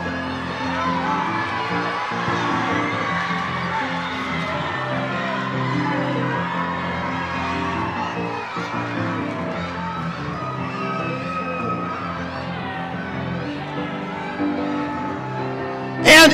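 Youth conference crowd cheers, whoops and shouts continuously, loud and close, urging on a team in a Rice Crispy eating challenge, the chaotic roar holding steady throughout.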